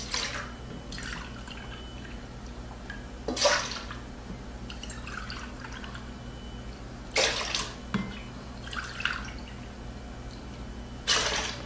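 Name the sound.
soy sauce being poured into a pan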